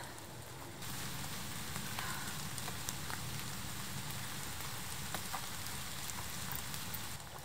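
Steady rain pattering on a forest shelter during a solo overnight camp beside a fire, a dense, even hiss of drops close by with occasional louder individual taps.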